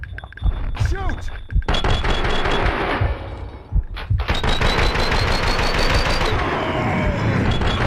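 Rapid gunfire from Max Payne 2 rattles through a firefight in dense, repeated bursts, with a few heavier thumps mixed in and shouting voices over the shooting.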